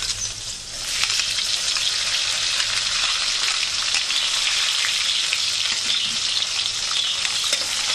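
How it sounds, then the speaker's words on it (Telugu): Onion and green chilies fry for upma in a pan with a loud, continuous, dense sizzle and crackle that holds steady throughout. "దీంట్లో ఉల్లిపాయ పచ్చిమిరపకాయ వేస్తున్నాను."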